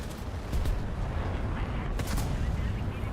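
Artillery fire in War Thunder during a Swedish Rank V ground battle, heavy booming shots with two sharper cracks standing out over a continuous low rumble of combat.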